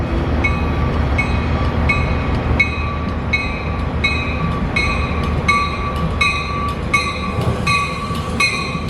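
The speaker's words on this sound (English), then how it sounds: "train 51 is now approaching on track 4" A commuter train pulls into a station platform near Seattle with a loud, steady rumble and a regular pattern of bright metallic clicks and ringing tones as it approaches.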